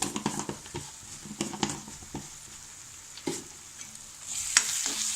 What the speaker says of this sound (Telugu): ఇది కూడా మొత్తం కలిసే వరకు కలుపుకోవాలన్నమాట